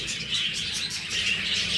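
Steady high-pitched chirping and twittering of several budgerigars calling continuously and fairly close, with no talking.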